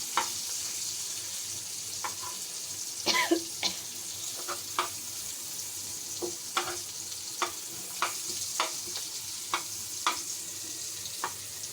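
Onions and green chillies frying in a pan for a home meal, a steady soft sizzle broken by a dozen or so sharp stirring scrapes and clicks, close and without talk.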